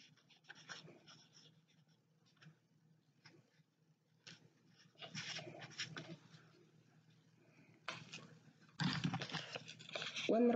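A pen scratching names onto paper, with soft intermittent strokes and rustles growing busier toward the end, quiet and close, a voice speaking faintly at times.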